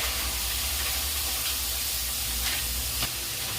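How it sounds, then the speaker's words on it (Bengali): Paneer fries in ghee in a wok, a continuous close hissing sizzle with faint scrapes and small bursts of spatter throughout. "সব কটা পনির দিয়ে আমি ফ্রাই করে নিচ্ছি"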